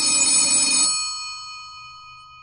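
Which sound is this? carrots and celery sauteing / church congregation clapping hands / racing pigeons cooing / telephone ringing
telephone ringing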